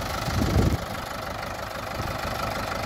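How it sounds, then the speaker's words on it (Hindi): A four-cylinder Mahindra 575 DI tractor with an inline pump idles on a farm, a steady low diesel rumble with a brief louder thump near the start, heard close and alone. "और ये आइडल साउंड भी सुन लो आप ट्रैक्टर का"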